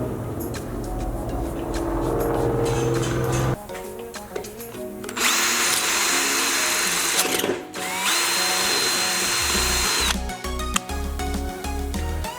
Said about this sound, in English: now I need to drill through the subframe connectors